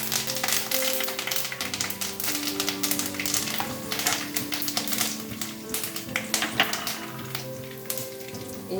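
Curry leaves crackle and sizzle in hot oil with popping mustard and cumin seeds for Indian sambar dal, a dense, close spitting hiss with sharp pops and a faint steady tone underneath.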